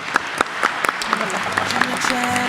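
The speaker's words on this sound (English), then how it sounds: "let's have a wonderful, huge and passionate round of applause for our wonderful streamers" Applause from a convention audience for a streamers panel, with scattered, uneven claps rising into a fuller round over a couple of seconds, a voice audible underneath.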